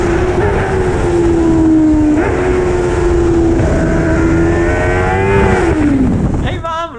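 A formula racecar engine at the Mugello circuit in slippery, icy-feeling conditions, a loud close onboard whine holding steady with small pitch steps before dropping as the car slows near the end.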